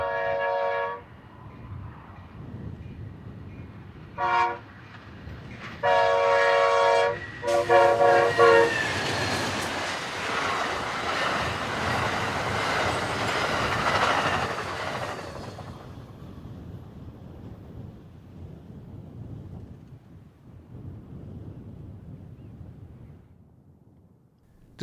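A passenger train, number 4, passes old semaphore signals on a rural New Mexico line, sounding several horn blasts before the roar and clatter of cars rolls by and fades into the distance.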